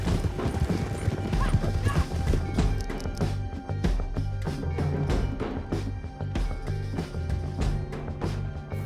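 Horses galloping in Red Dead Redemption, with rapid rhythmic hoofbeats and a neigh over a busy game soundtrack, loud and continuous.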